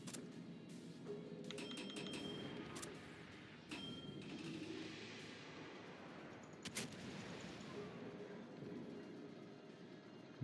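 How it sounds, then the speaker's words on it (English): Gunfire in the naval battle game World of Warships, with several sharp cracking shots scattered across a busy game-sound background, some in quick clusters and one louder burst near the middle. "Gunshots."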